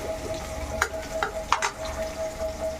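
Onion frying in a pan for Mangalorean fish curry, a soft steady sizzle with a few light scraping stirs, quiet and brief, with no talk.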